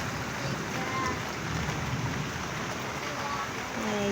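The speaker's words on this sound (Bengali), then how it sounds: "এই যে বৃষ্টির পানি টপ টপ টপ টপ করে পড়ছে।" Light rain falls and drips in Bhaluka during a passing storm, a steady soft patter with scattered drop ticks, fairly close and continuous without any voices.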